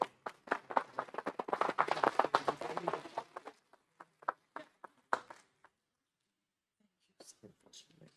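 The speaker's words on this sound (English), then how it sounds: "Round of applause." A small group claps at a town council meeting, a burst of uneven handclaps that thins to scattered single claps, falls quiet, then picks up briefly again at the end.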